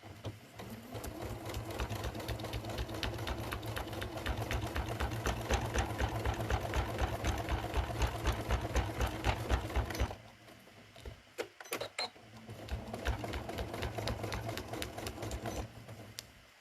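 Sewing machine stitching fabric pieces together for a folded star trivet, running in a long steady burst of rapid needle strokes, pausing briefly with some handling noise, then resuming for several more seconds.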